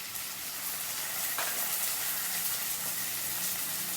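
Garlic, cumin and ginger paste fry in a pan for a ridge gourd curry, giving a steady, moderately loud sizzle and hiss that runs throughout, with one brief sharper crackle near the middle.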